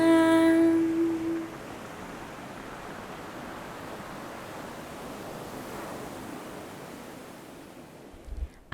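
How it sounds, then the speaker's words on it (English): Steady ocean surf rolling in at Uluwatu on Bali's coast, a continuous broad wash of breaking waves heard at moderate distance, with no voices over it. "Ocean never sleeps."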